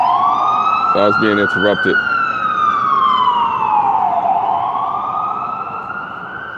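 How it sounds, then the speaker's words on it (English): An ambulance siren wails through the city, a loud continuous rising and falling tone that holds throughout, with a brief burst of a man's speech near the start. "You can just see an ambulance coming."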